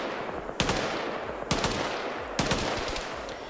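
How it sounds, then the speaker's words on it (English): Machine gun fire in the military shooter game Arma 3: three short, sharp bursts about a second apart over a constant hiss of background ambience, with no talk. "One of the machine guns is firing."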